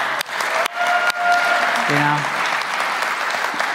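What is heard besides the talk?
audience applause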